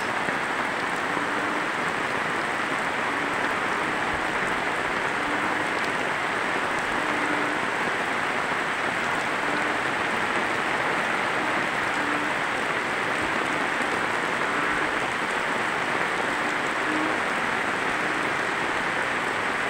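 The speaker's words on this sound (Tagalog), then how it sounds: "Siguro mamaya hanggang gabi siguro ang ulan na ito." Steady downpour of heavy rain in the Bicol region of the Philippines from a low pressure area, a thick constant roar of water hitting surfaces, unbroken throughout.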